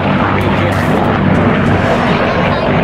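B-17 bomber flying at the 2014 Wings Over Houston airshow, a loud, continuous propeller-engine drone filling the whole stretch without letup.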